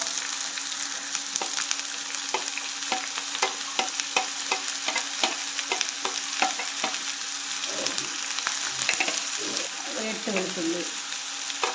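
Chopped onions sizzle and fry in hot oil for an egg masala curry, with steady crackling and a string of scraping stirs from a utensil in the pan, close and continuous with no talking.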